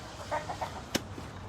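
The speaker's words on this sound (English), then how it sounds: "here we have all of our guinea hens, turkeys, chickens" Hens clucking in a farm chicken coop shared with guinea hens and turkeys, a few soft clucks followed by one sharper squawk, faint and moderately distant with no talk.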